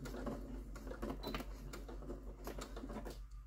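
A sewing machine stitches fabric for a potholder in quick, rhythmic bursts of needle clatter, quiet and close, with short pauses between runs.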